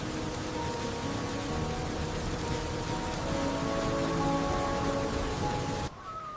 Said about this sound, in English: The rain is still falling outside.